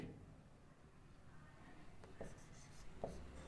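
A pen writing out a circles geometry solution in a maths lesson, a faint scratching under quiet room noise with a few soft strokes near the end, and no talking.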